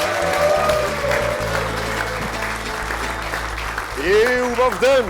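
A studio audience applauds during a Macedonian TV talk show. The clapping is loud and sustained, with a host speaking and music over it.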